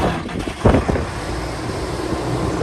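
A 1984 International 5088 tractor engine cranks with a short rough burst, then settles into a steady low rumble outdoors, with wind noise brushing the microphone.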